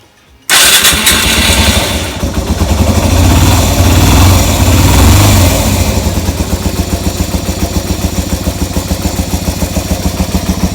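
Yamaha Virago motorcycle, fitted with a new battery while chasing an electrical fault with its voltage regulator, cranks and fires abruptly, then settles into a loud, close, steady idle with an even pulsing beat.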